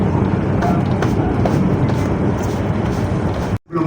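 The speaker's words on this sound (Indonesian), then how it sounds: "Kereta api berhenti dengan sempurna." A Wijayakusuma passenger train in premium class rolls with a loud, steady rumble and rattle heard from inside the carriage. The noise drops out for a moment near the end.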